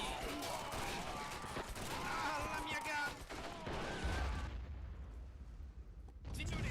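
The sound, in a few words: gunfire in video game All Quiet on the Western Front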